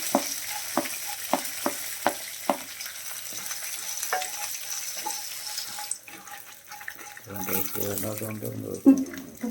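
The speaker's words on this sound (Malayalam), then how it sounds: "വറ്റൽമുളക് ഇട്ട് കപ്പലണ്ടി ഇടാം" Dried red chillies and peanuts fry in hot coconut oil while a spoon taps and stirs the pan in quick clinks, then a soft sizzle carries on under brief talk.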